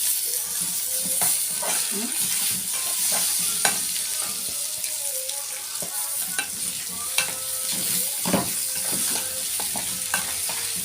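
Rice tips into deeply browned onions in a pot, then fries with a steady hiss and sizzle while a utensil stirs and scrapes, giving irregular clinks and knocks against the metal throughout.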